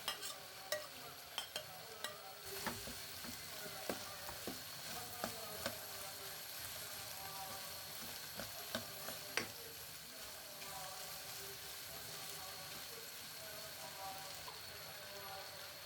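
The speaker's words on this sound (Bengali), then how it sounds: "আমার মাংস আর সসেস গুলো একটু আমি ফ্রাই করে নিচ্ছি" Meat and sausages fry in a pan with ginger, garlic, onion, green chilli and potato, making a low, steady sizzle under a series of scattered utensil clicks and stirring knocks, fairly faint and close.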